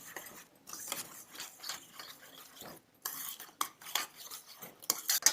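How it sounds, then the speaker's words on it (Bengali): Onion and egg paratha ingredients being mixed in a bowl, with a steady run of light clinks, scrapes and stirring taps from a utensil against the dish, close by and fairly faint, with no voices. "এবারে বন্ধুরা আমি সমস্ত উপকরণগুলোকে ভালো করে মিশিয়ে নিচ্ছি।"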